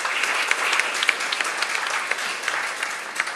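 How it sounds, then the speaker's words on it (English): Audience at a research grant award ceremony applauds the chief guest, dense sustained clapping from many hands with scattered sharper claps standing out, loud and continuous throughout. "So please join me in giving a very warm round of applause for our chief guest."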